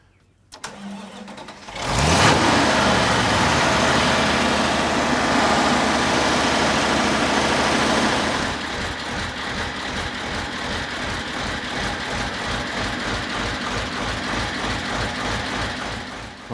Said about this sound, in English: Here, a nice V8 running.